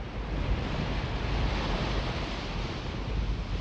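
Ocean waves surge onto the coast in a steady, loud, broadband roar of surf with wind, continuous throughout and without voices.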